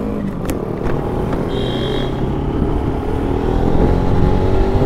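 Three fully fuelled motorbikes set off on a rough, off-road stretch near Manali, a steady engine drone that builds gradually as they gain speed, close and loud, with no talk.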